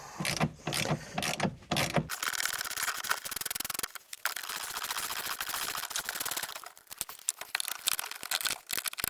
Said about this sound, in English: So we're going to take these nuts off now.